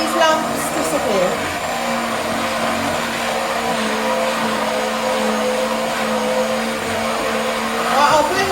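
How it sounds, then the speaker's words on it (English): Hand blender blitzing a lumpy white sauce for pastitsio, giving a steady, loud motorised whir that runs continuously throughout without pauses. "Give it a good little blitz, and it's going to make every single one of these lumps disappear."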